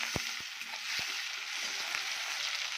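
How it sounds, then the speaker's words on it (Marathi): Chopped tomato sautéing with curry leaves in a pan, giving a steady close sizzle with a few sharp stirring clicks from a utensil and no voices. "छान टोमॅटो पण परतून घेऊया."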